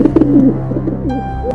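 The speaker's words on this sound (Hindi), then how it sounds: "रास्ते में उसे एक घायल कबूतर दिखा। वो दर्द से कराह रहा था।" An injured pigeon coos in pain nearby, a soft low throaty warble repeated a few times, loud and alone.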